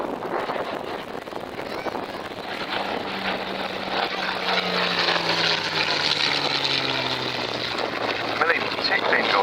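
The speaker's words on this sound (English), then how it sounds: "Very distinctive view there of the Mark 16 Spitfire with clip wings" A clipped-wing Supermarine Spitfire Mark 16 flying at the RAF Cosford air show, its propeller engine drone building steadily as it passes, with wind noise and a commentator talking over it.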